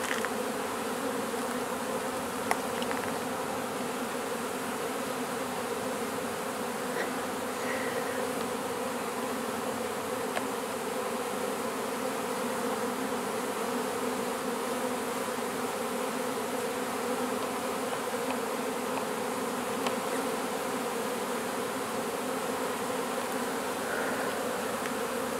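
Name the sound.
honeybees buzzing around a hive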